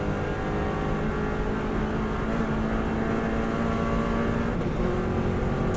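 A Subaru Impreza engine holds a steady, loud drone at speed in fifth gear on a twisting road course, with constant wind and road roar and no talking.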